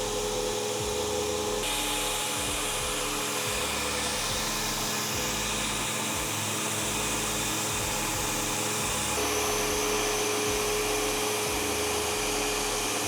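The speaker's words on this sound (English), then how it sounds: "So once I'm ready, I'll turn it on now and we'll get the shot blasting done." A shot blasting machine runs steadily across a floor surface during line-marking preparation, giving a loud, continuous roar with a gritty, rattling texture that holds throughout and shifts slightly in tone partway through.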